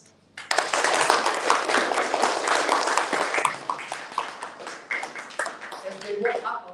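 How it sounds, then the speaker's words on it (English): An audience at an app showcase closing ceremony breaks into a round of applause that starts suddenly and stays full and steady, with scattered louder claps and faint voices near the end. "A round of applause."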